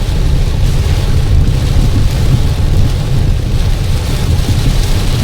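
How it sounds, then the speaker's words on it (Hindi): Heavy monsoon rain pours down during a drive along a tree-lined road between Sirali and Harda in India, a loud, dense, unbroken roar with a deep rumble underneath and no voices. "बारिश है कि तेज़ से तेज़ होती जा रही है।"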